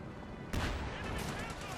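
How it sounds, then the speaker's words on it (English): A Sherman tank fires in the video game Company of Heroes 2, a single sudden loud blast with a rumbling tail over ongoing battle noise. "Sherman firing."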